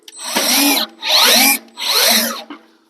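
Power drill driving screws while installing an American Standard blower motor, three loud whirring bursts of roughly half a second each with short pauses between, close up, no talking.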